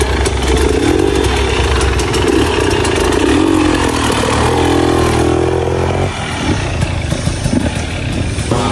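Motorcycle engine idling steadily and loud for several seconds, with slight rises in pitch, at an informal illegal street race.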